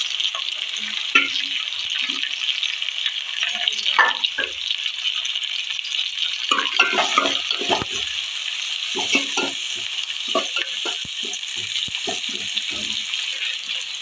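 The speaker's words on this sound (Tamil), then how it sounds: "இப்போ ரெண்டு தக்காளி ரெண்டு தக்காளி போட்டிருக்கேன் அதோட கருவேப்பிலை" Tomatoes and curry leaves sizzle and crackle steadily in hot oil for a Tamil fish curry, with occasional stirring clinks over a continuous close frying hiss, no talking.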